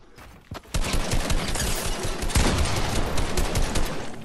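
Rapid automatic gunfire in the video game Fortnite, a dense sustained burst of shots that starts after a couple of single cracks and keeps going loud to the end.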